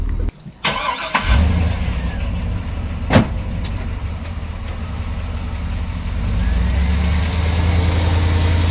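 Wrecked car engine cranking with a few clunks, then catching and settling into a steady low idle that grows slightly louder toward the end.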